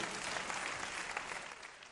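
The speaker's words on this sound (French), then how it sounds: "applaudissez pour vous" Applause from a comedy show audience fills the whole stretch, a dense steady clatter of many hands without pause, close and full.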